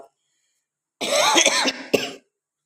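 A short burst of harsh coughing close to the mic from someone ill with fever and a cough, two or three rough hacks after a moment of silence.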